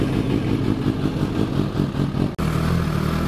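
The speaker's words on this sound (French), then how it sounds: "on va démarrer, on va faire chauffer la moto" Suzuki GSR 750 motorcycle engine starting and warming up after an oil change, a loud, steady idle rumble with a brief cut near the end before it continues running.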